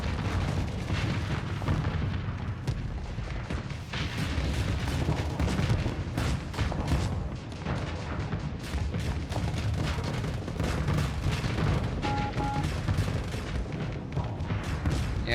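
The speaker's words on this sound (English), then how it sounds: "Missiles got me." Missile impacts in the space combat game Starsector keep up a dense, continuous rumble of explosions and booms, loud and steady throughout with no clear pauses.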